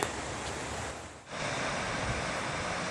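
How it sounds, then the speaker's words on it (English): Steady, dense rushing water of a mountain waterfall on the Pacific Crest Trail near Glen Pass roars continuously, with a brief dip partway through before the full roar returns. "Look at that waterfall."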